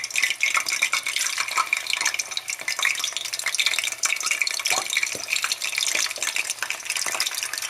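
Plantain slices fry in a pan of hot oil, a steady bright sizzle with crackling pops and occasional stirring scrapes, close and continuous throughout.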